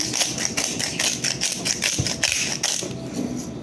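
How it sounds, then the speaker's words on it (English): Black peppercorns crunch in a hand pepper grinder, a close, rapid run of gritty ratcheting clicks that tapers off near the end. "I found, this was black peppercorns, a grinder."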